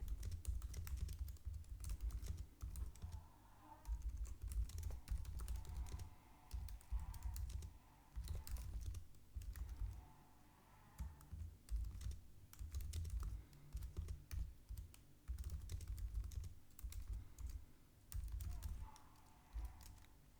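Prompt typed on a computer keyboard: quick bursts of close, crisp key clicks in uneven runs with short pauses between them, no talking.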